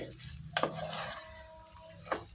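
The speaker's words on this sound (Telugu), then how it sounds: "అల్లం వెల్లుల్లి పేస్ట్ పచ్చివాసన పోయేంత వరకు ఫ్రై చేయాలి" Ginger garlic paste fries in a pan with a constant close hiss, broken by a couple of brief spatula scrapes and clinks against the metal; no voices.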